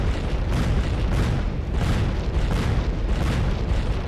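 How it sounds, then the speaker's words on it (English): Continuous rumbling blasts and booms roll one after another, dense and loud, like a barrage of explosions in the video game Happy Wheels, with no talking. "I just hear explosions, but I don't see any"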